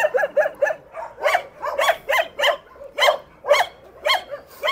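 A dog at a dog shelter barks in a steady, rapid series of loud, close yaps, about a dozen in under five seconds, with no speech over them.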